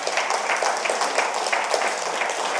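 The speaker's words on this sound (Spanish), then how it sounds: "Dale un aplauso al Señor." A church congregation claps steadily in sustained applause, a dense even patter with no breaks.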